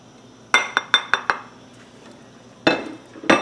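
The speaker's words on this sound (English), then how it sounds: "Give that a stir really good." A spoon clinks against the side of a pot of pasta e fagioli as basil, oregano, thyme and marjoram are stirred into a tomato sauce: four quick metallic taps in a row, then two louder knocks after a pause, with no talk.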